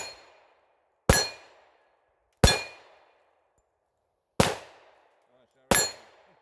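Springfield XDM compact 10mm pistol firing MagTech rounds at a swinging steel target outdoors: four loud, sharp reports spaced about a second or more apart, each with a ringing metallic decay.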